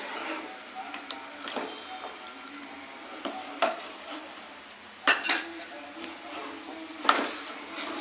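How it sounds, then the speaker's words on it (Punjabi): A spoon stirs custard powder mixture into boiled milk in a metal pot for a carrot kheer, making intermittent clinks and scrapes against the pot over a quiet background. "ਐਦਾਂ ਹਿਲਾਉਂਦੇ ਹੋਏ ਆਪਾਂ ਇਹਨੂੰ ਮਿਕਸ ਕਰਾਂਗੇ"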